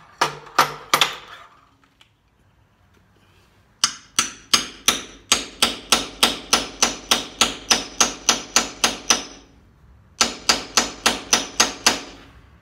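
A steel hammer strikes the slightly mushroomed top of a woodturning drive spur in three bursts of sharp, evenly spaced metallic blows: a short run, then a long steady series, then another run.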